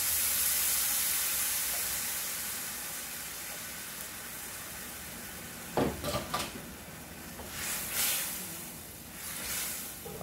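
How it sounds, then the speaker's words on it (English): Canned French onion soup and beef broth pour into a hot pan of onions for Greek rice, giving a steady hiss and sizzle that fades, followed by a few clinks and splashes near the end. "We're going to add the one can of the French onion soup. And we're also going to add our beef broth."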